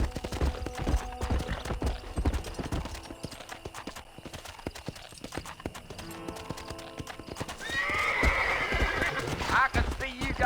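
Clip-clop of horse hooves at a steady riding gait in Red Dead Redemption, with a horse whinnying loudly near the end, under spoken dialogue throughout.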